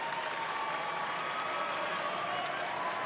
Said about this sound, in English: Rowdies cheering section right now trying to put it together